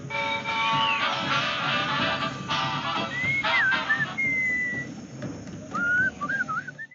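A melodic whistled tune from the Sam and Max Beyond Space game rises over a full, busy instrumental backing, with wavering whistled phrases surfacing in the second half and again near the end.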